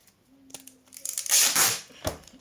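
A piece of adhesive tape is pulled and cut off the roll while making a cardboard craft, giving a brief close rasping rip followed by a sharp snip in an otherwise quiet room.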